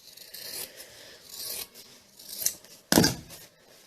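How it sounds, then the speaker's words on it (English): A few brisk scissor snips and rasping cuts through quilting fabric, close by, ending in one sharp louder snip. "And so I just cut them off with my scissors,"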